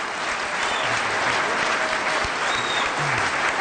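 Sustained applause from a conference audience fills the room, a dense, even wash of many hands clapping steadily throughout without pause.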